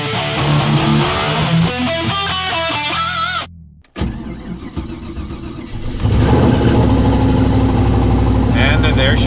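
A car engine cranks and catches after a brief silence, then settles into a loud, steady idle close by, with a voice talking over the start.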